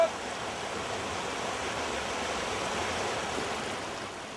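Water flowing down the Stubmingbach, a steep brook fitted with a stepped pendulum channel, a steady close rushing wash with no voices.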